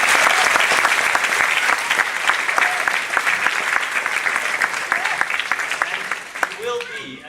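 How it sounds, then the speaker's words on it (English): A large audience at a primary school production of The Jungle Book gives loud, sustained applause to the teaching staff. A voice briefly emerges near the end as the clapping thins. "Let's give them a big round of applause"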